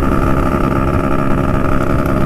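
A Vespa scooter engine fitted with an IDP sprint block and three-port cylinder revs loudly and continuously at close range, a dense steady roar with no talk over it.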